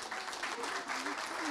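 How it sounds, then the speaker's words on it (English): An audience at a colorist meetup hosted by Abel Cine applauds steadily, a dense wash of clapping filling the room for a moment with a voice faintly audible underneath. "can we have a round of applause for Abel Cine, please?"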